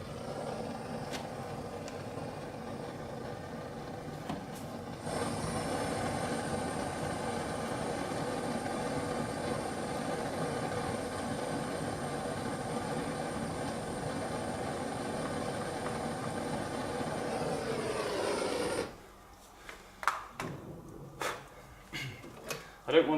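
Blowtorch roaring steadily as it heats the back of a seized nut near a fuel tank on a classic Mini under restoration, a loud continuous hiss that cuts off sharply, followed by scattered clanks and taps.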